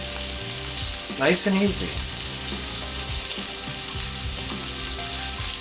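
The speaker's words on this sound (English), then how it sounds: "Let it get good contact, let it get a good sear." Steaks searing in a hot pan give a steady, close sizzle and frying hiss that runs unbroken throughout, with a brief clatter and someone speaking briefly over it.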